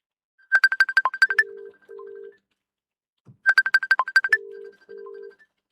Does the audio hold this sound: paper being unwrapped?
no